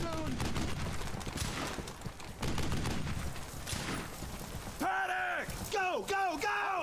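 Gunfire in the World War II shooter Brothers in Arms: Hell's Highway: rapid bursts of rifle and machine-gun shots crackling in waves, with shouting voices that take over the last couple of seconds.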